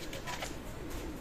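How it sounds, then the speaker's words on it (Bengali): Oman Teddy pigeons coo softly and continuously in a close, steady murmur of low, rounded calls with no talking. "মাশাল্লাহ কবুতর, এটার দাম পড়বে অনলি"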